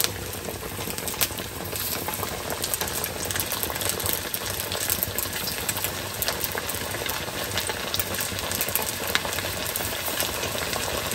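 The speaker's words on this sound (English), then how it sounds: "Let's slide them one by one." Chicken tenders fry in hot oil, a steady dense sizzle and crackle running close and fairly loud throughout with faint ticking pops and no talk over it.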